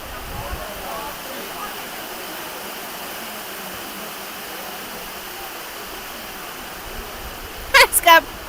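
Heavy rain falls steadily and loudly over an outdoor under-17 football match, a constant dense hiss throughout, with brief voices or shouts near the end.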